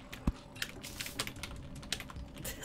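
Keys on a computer keyboard clack in quick double taps while playing Terraria, an irregular run of close, crisp clicks with a few louder strikes.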